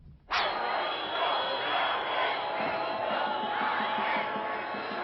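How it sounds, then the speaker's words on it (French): A crowd of a few hundred teachers and workers from struggling companies in Rouen jeers at the Prime Minister's arrival. A sudden, loud, sustained roar of massed voices with whistling rises abruptly and holds steady. "Le Premier ministre a été accueilli à Rouen sous les huées de quelques centaines d'enseignants et de salariés d'entreprises en difficulté."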